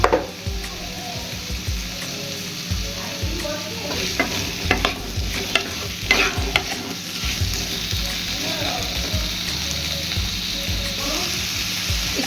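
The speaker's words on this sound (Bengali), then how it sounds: "এখানে কড়াইতে আলুগুলো ভাজতে দিয়েছি" Potatoes fry in a little oil in a wok (kadai), giving a steady close sizzle with scraping stir strokes and clatters throughout, no talking.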